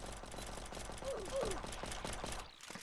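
Rapid gunfire bursts from a prison break video game, dense and loud throughout, with players' voices mixed in over the shooting.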